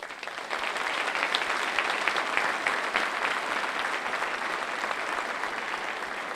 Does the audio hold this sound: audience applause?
yes